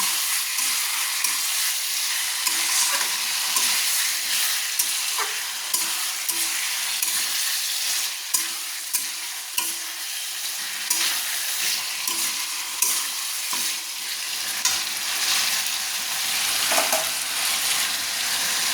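Meat curry with yogurt, a hatchery chicken jhol, sizzles steadily in a pan while a spoon stirs and scrapes through it in repeated strokes, loud and close with no voices.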